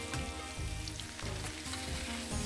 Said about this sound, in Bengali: এটা এদিকে ভাজা হচ্ছে